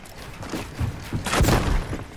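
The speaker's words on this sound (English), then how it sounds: "I just blew myself up" A self-inflicted explosion in Fortnite, heard as a burst of rumbling booms and crackling blasts building toward a loud peak before trailing off, close and brief.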